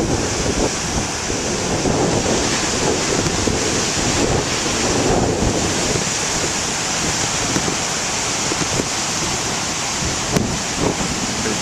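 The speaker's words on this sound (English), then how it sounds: "I'm not going to let that get in the way of my enjoying the waves here." Huge ocean waves crash and surge in a constant heavy roar of surf, with wind buffeting the microphone throughout and occasional louder breaking swells, no voices.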